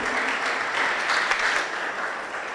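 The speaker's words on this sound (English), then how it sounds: "A round of applause again." Sustained applause from the audience at the closing ceremony of a sci-tech innovation challenge, an even, dense clatter of many hands holding steady throughout.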